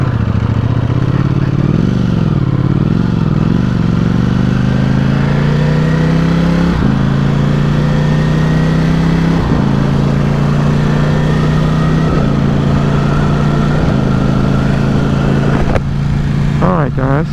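A 1000cc motorcycle engine runs close and loud throughout, a steady droning rumble with small rises and dips in revs, and a voice talks over it.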